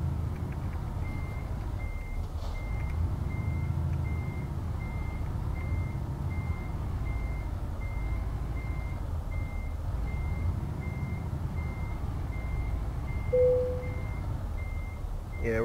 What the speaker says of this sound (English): looks like I'm failing really hard on trying to back this trailer up in here